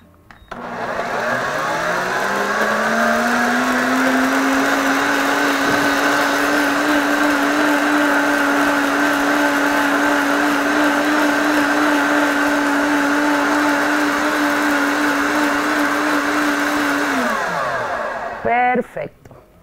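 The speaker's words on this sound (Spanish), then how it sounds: "vamos a hacer ruido con la batidora." An electric blender whirs through a cholesterol-lowering smoothie, spinning up to a loud, steady high-pitched drone that holds for most of the stretch, then winds down and stops with a brief clatter at the end.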